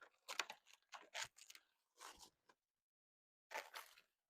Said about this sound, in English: I'm going to take off this plastic that is protecting